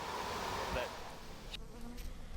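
Honey bees buzzing at an open hive during a beekeeping inspection, a steady close drone of many insects that thins out toward the end, with faint handling noises and no clear talk.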